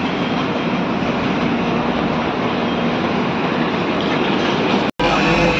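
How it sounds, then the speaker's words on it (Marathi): A train passing outside Gangapur City station, with a loud continuous rumble and rattle of wagons rolling close by and steady throughout, with a brief cut near the end. "लाइन ट्रेन जा रही है"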